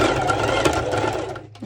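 A sewing machine runs a few back-and-forth stitches on a sporty cut-out top, a close, steady mechanical whir that stops briefly near the end.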